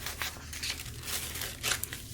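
Sheets of plain printer paper are handled and crinkled up close, a soft, quiet run of irregular rustles and crackles with a few brighter crinkling bursts and no talking.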